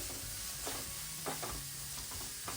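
Mustard seeds, chopped ginger, green chilli and grated carrot sizzle and crackle in a hot pan, with a steady frying hiss and occasional stirring scrapes, no voices.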